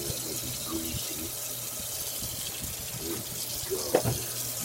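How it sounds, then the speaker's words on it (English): Hot water runs from a tap down a kitchen drain in a low, steady stream with a faint clink near the end. "Running hot water down the drain."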